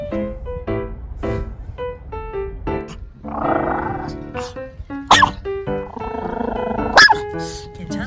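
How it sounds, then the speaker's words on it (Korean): Two small dogs passing each other bark back and forth in sharp, loud bursts, trading repeated yaps with a growl and whine mixed in, close by and without talk. "하필 지나가는 강아지 두 마리가 서로 보고 짖어버렸거든요"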